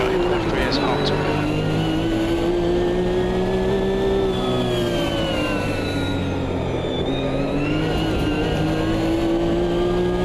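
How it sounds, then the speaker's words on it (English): Ferrari race car in the Automobilista 2 racing game, its engine droning and rising steadily as the turbo boost kicks in after a lag, loud and continuous with a voice talking over it. "There's that big lag that the Ferrari's got. And then the turbo boost comes flying in."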